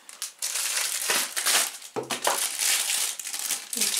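Plastic packaging around a scraper set being opened up close, with loud crinkling, crumpling and crackling in quick irregular bursts and one sharp snap partway through.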